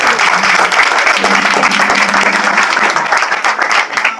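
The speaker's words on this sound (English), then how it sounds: "let's just give the respect and the round of applause that this gentleman deserves" A conference audience applauds loudly and steadily for a gentleman being introduced on stage, the dense clapping filling the whole stretch at close range with no talk over it.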